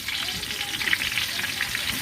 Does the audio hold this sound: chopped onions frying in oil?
yes